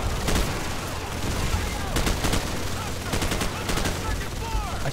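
Gunfire rattles through a Call of Duty 4: Modern Warfare match, bursts of shots repeating every second or so over a constant battle din, with voices faintly mixed in.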